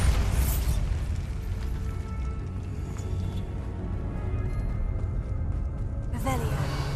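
Bombarda explosion spell going off in Hogwarts Legacy, a loud sustained blast with booming low rumble and crackling debris filling the whole stretch, with a fresh burst near the end.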